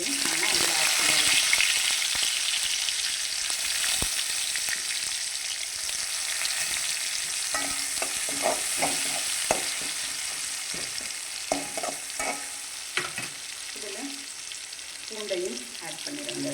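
Onions tossed into hot oil with cumin seeds in a pan, starting as a bright, loud sizzle that settles into a steady fry, with stirring scrapes and light clatter later on.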